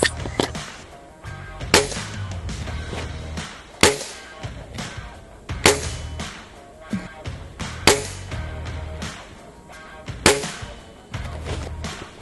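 Repeated shots from an Air Arms TX200 HC .177 underlever spring air rifle firing JSB Diabolo field pellets, sharp loud cracks coming every couple of seconds with some softer mechanical clicks between them, heard alone without talk.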